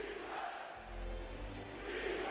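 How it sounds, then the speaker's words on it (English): A basketball playoff crowd in the arena, Knicks versus Pacers, roars in a broad, distant swell, chanting rhythmically as one mass of voices with no single speaker standing out. "the crowd is chanting defense"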